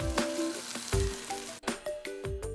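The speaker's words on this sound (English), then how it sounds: "I'm going to saute the onions till it's nice and golden brown" Onions sauteing in a pan with spices for nihari give a close, steady sizzle broken by a few quick stirring scrapes and knocks.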